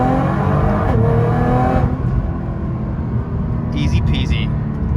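A Nissan R35 GT-R driving on an airstrip, a steady close engine drone from inside the car, briefly easing off, with someone talking over it throughout.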